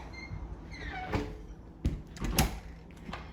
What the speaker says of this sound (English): as we move in and unlock the door, it seems to work pretty well and move pretty easily